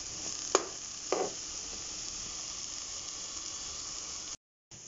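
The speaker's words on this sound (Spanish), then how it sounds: "aquí lo dejamos a que esto se cueza unos 10 minutitos" Beef with oregano simmers in a pot, a soft steady sizzle and bubbling hiss with a couple of brief clinks early on, close but quiet, cutting out abruptly near the end.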